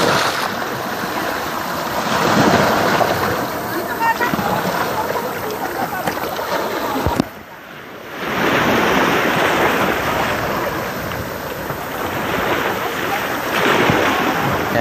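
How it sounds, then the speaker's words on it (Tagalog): Continuous roar of sea surf washing onto a beach at Lobo, Batangas, with a brief lull midway before the waves surge back, steady and fairly loud. "Napakaganda po ng hampas ng lalampasigan o yung alo ng dagat."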